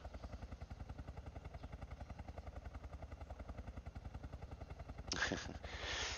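A helicopter in the video game DayZ Epoch, an Arma 2 mod, drones with a rapid, steady rotor thump throughout, joined near the end by a louder burst of engine roar.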